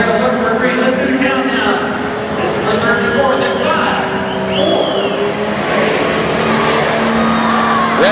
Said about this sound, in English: Revs come up, there's the green, and Matt Boyer comes flying out of the hole